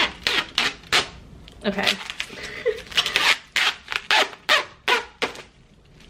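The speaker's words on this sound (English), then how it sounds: "I have to peel this layer off of it. Okay, satisfying peel hopefully." Protective plastic film peels off a display stand with a series of crackling, squeaky rips in uneven bursts, close and crisp. A voice speaks briefly.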